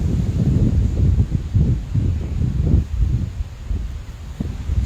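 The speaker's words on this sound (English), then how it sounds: "The wind is picking up." Wind blowing outdoors during a spring beehive inspection, gusty low rumbling buffeting against the microphone in uneven bursts, with no clear talking.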